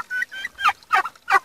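Turkeys gobble in repeated loud bursts, a few close calls in quick succession with no talk.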